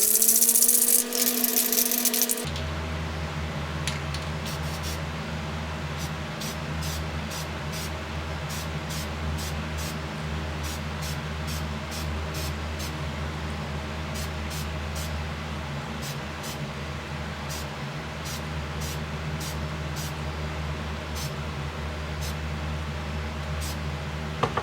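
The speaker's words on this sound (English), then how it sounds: "I'm just going to spray it on there to help seal the wood" Krylon matte spray sealer hisses in a long continuous spray over a handmade wooden fishing lure, a steady close aerosol rush under a low background hum, with faint ticking clicks scattered throughout.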